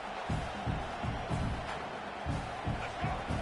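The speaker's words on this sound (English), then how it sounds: "the crowd coming to life here, trying to help this defense down in the red zone" A football stadium crowd in the fourth quarter as the home defense holds in the red zone, a broad steady roar of cheering with a commentator talking over it throughout.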